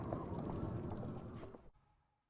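Horse hooves galloping in the video game The Witcher 3, a brisk run of loud, close clip-clop beats that ends abruptly with a brief fading tail.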